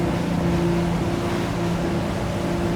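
A Salpa Avantgarde 35 motorboat runs at about 21 knots through light waves, its engines producing a steady, loud droning hum with a clear tonal whine over rushing water, continuous and close.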